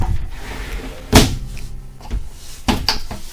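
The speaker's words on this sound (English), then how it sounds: "Glass door slide." A sliding glass shower door in a 2020 Flagstaff 526RK fifth-wheel trailer slides along its track, with two sharp knocks as it bumps open and shut, close by in a quiet room.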